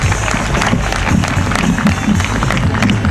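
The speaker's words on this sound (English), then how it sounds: "Give a round of applause to Larken Rose." Audience applause for a speaker at a talk, dense continuous clapping from a crowd, loud and close, filling the whole stretch without speech.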